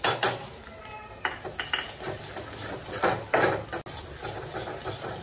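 A utensil scrapes and clanks against a pan as chicken is stirred with coriander powder, homemade masala and other spices, giving irregular metallic knocks and scraping strokes close up.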